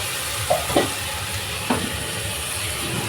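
Chopped onion, slit green chillies and cut tomatoes fry in a pan for a home-style chicken dish, with a constant sizzle and a few sharp spatula scrapes near the start and middle.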